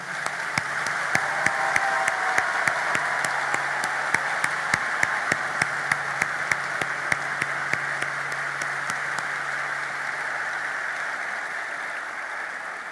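An audience at a ceremony in Port-au-Prince claps in rhythmic unison, a steady beat of sharp synchronized claps over a broad crowd wash that fades out toward the end.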